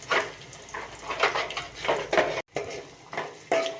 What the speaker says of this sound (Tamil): கொஞ்சமாக சட்டியில் எண்ணெய் ஊற்றி, எண்ணெய் கொஞ்சம் காஞ்சதையும் வெங்காயத்தை போட்டுக்கணும்.